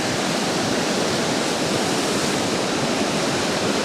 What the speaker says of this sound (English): See the river behind me, Chilliwack River.